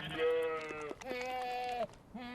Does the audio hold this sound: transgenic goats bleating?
yes